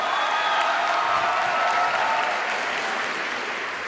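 An audience at the Toulouse Game Show 2012 bursts into steady, dense applause, a loud, even wash of clapping from a large crowd that holds for the whole stretch and fades slightly at the end.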